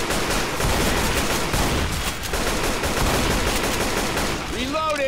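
AK rifle gunfire in Left 4 Dead 2 blasts as a dense, continuous burst of rapid shots, loud and up front, with a voice faintly underneath near the end.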